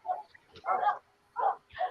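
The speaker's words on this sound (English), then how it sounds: "I don't know how the hell that girl can still bark. She been barking at me all damn day." A female dog barks in four separate short woofs spaced unevenly, moderately near and clear against a quiet background with no talk.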